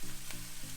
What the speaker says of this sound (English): we're still waiting for our veggies to continue to saute